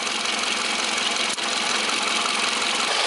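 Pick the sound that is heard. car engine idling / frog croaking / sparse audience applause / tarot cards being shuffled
car engine idling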